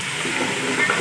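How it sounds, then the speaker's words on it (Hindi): Spices with finely chopped green chillies and salt sizzle in a pan, a short, steady, close frying hiss with no voices. "सारी चीज़ों को अच्छे से फ्राई कर लेंगे।"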